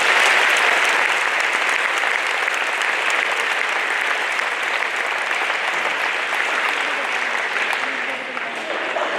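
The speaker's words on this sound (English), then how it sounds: "Please join me in giving Sergeant Swalley one more round of applause and gratitude" Sustained audience applause at a school Veterans Day assembly honoring a sergeant: a thick, steady roar of many hands filling the hall, holding strong for several seconds before easing slightly at the end.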